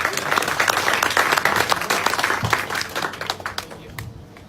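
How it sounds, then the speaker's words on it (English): Audience at a KTM event applauds as an executive comes on stage, a dense burst of clapping that gradually thins out and fades over a few seconds. "Can you please give him a round of applause, everyone?"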